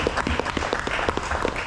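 A crowd applauds at the launch of a softball tournament in Guyana, dense steady clapping with no break for nearly two seconds, fairly loud and close.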